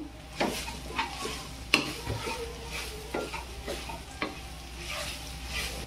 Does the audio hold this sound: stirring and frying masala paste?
yes